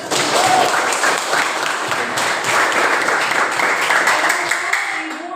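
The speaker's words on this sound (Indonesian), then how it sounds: "tepuk tangan." Classroom applause from a group of students, dense steady clapping that fills the space for about five seconds before tapering slightly at the end.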